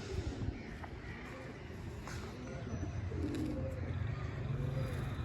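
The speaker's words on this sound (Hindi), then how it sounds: "कबूतरों को दाना दिया है, कबूतर दाना खा रहे हैं" Pigeons coo softly in a low murmur while eating grain on a rooftop, amid faint outdoor background noise, with occasional rustling and distant chirps.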